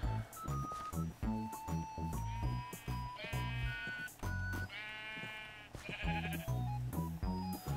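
Repeated sheep bleats in a game, short and loud, over busy background music that runs the whole time.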